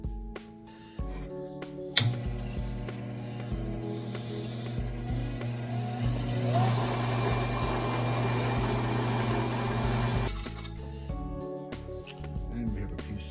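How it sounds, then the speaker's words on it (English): Trim saw slicing through an emerald stone, a steady motor whine with a water-cooled grinding hiss that swells for several seconds mid-cut, then stops, leaving quieter workshop background. "And we've set the stone up to cut it just where we need it. And we're ready to cut."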